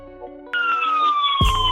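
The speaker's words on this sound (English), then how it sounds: "You might have just heard the siren there or not." An emergency vehicle siren sounds loud and close in a single wailing tone that slowly falls in pitch, with a low thump near the end and no talking.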